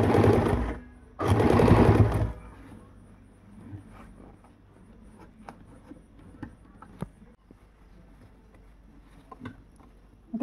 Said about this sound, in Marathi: आता असं हे ओढून इलॅस्टिक असं ओढून टीप मारायची